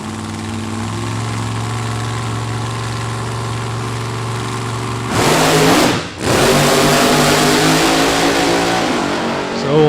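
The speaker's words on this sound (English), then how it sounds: "the car comes up off the starting line, plants hard, unloads the chassis as all four tires off the ground there" A nostalgia gasser drag car at Byron Dragway rumbles at idle, then erupts into a loud, roaring launch off the starting line before its engine note dips briefly and surges again.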